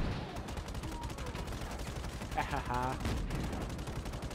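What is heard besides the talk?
gunfire in the video game Just Cause 3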